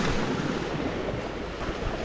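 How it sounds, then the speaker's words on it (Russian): Sea waves breaking against rocks on the coast near Manavgat and Side in Turkey, a steady loud wash of surf with wind buffeting the microphone throughout. "все это под шум волн, которые так вот разбиваются"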